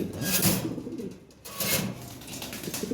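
Fancy pigeons coo in a close, steady murmur with soft layered calls, recorded where the birds are kept for sale, with no voices.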